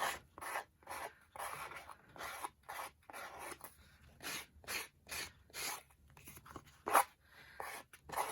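Rhythmic rasping strokes of a sanding block worked along the torn edge of a paper napkin, about a dozen short scratchy passes at a steady pace, quiet and close with no talking.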